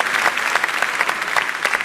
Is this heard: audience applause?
yes